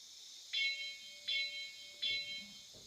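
Three evenly spaced clangs of a locomotive bell from a model railway sound app on a phone, each ringing bright and metallic before fading, with a faint low tone running beneath and a little background noise.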